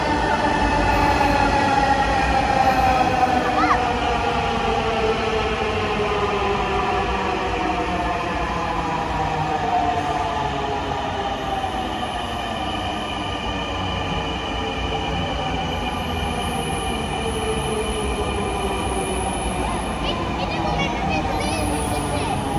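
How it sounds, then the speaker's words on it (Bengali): A metro train runs past in a long continuous rumble with rising and falling wheel tones, loud and steady throughout. "ওইদিকে দেখো এটা একটা মেট্রো।"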